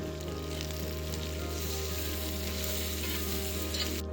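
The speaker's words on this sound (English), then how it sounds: "then threw those potatoes into the bacon grease" Potatoes frying in bacon grease with onion, red pepper and a sprinkle of jalapeno give a steady, dense sizzle that carries evenly from start to finish, close and unbroken, with no talking.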